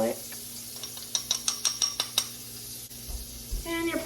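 Eggs frying in a pan on a home stove, a soft sizzle under a quick series of sharp metallic clinks and scrapes of a utensil against the pan, close by.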